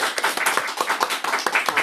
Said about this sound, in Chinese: 那你们有要鼓掌通过吗？